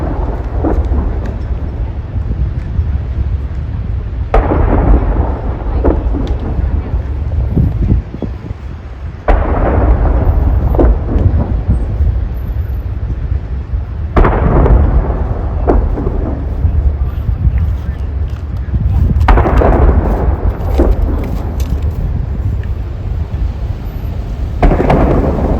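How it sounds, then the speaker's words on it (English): Salute gun fired during a state funeral ceremony, several heavy booming reports spaced a few seconds apart, each rolling out with a long rumbling decay over constant outdoor background noise. "There's the salute gun."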